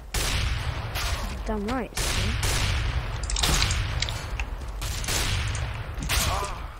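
Gunfire from the video game Counter-Strike comes as dense, repeated bursts of shots and echoing booms at a steady, loud level. Brief talk is heard over the gunfire.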